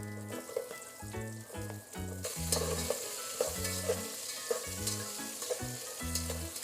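Thinly sliced onions, one or two small ones, sizzling in a pan for a vegetable biryani. The frying runs loud and continuous, with rhythmic low thumps and scraping from steady stirring throughout.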